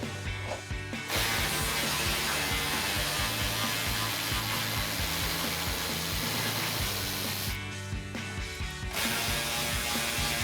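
Ratchet wrench with socket and extension working loose exhaust hardware under a Ford F-150 with the 2.7L EcoBoost, a steady, close, continuous clicking that runs throughout with only brief pauses.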